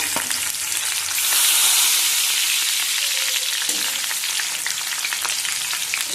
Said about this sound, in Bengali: সরষের তেল দিয়ে দিচ্ছি দুটো চিড়ে রাখা শুকনো লঙ্কা দিয়ে দিচ্ছি কেটে রাখা কাঁচা লঙ্কা